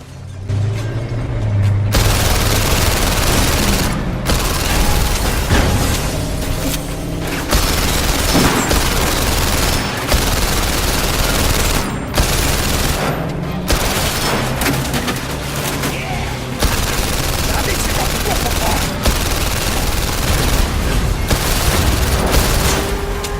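Loud, continuous gunfire and booming impacts from the VR shooter The London Heist, heavy fusillades with occasional pauses and mechanical clatter throughout, no voices.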